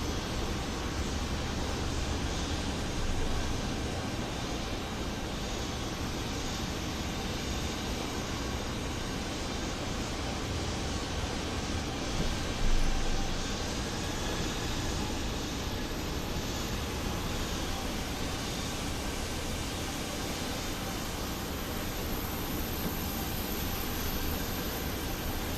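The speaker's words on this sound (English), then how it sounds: "Oh, that is a loud aircraft." Steady, loud, broadband roar of an SAS A320 aircraft engine in Microsoft Flight Simulator, droning continuously for the whole stretch with no speech over it.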